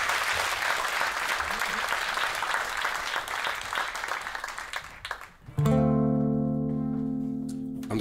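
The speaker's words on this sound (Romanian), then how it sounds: "Da, eu vă rog să-l aplaudați" Concert audience applauding steadily for several seconds, dense and even, before the clapping breaks off and sustained music tones take over.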